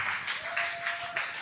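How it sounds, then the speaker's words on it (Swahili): A congregation at AP Community Church in Dadaab claps for Deacon Joshua, producing faint, rhythmic bursts of applause that pulse steadily at a distance. "Situpigie Joshua makofi mazuri"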